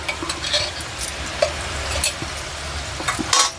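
Jaggery syrup with a spoonful of ghee bubbles in a pan for sesame chikki, with soft scraping stirs and occasional light clinks of a spoon against the pan, close and steady, no talking.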